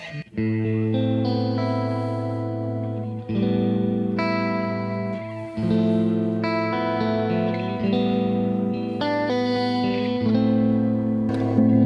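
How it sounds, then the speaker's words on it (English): Electric guitar through a Keeley Halo-style delay tone rebuilt on a Kemper Profiler, with a wavering flutter effect on sustained, distorted chords played in steady phrases, loud and alone. "Taking some little bit of flutter."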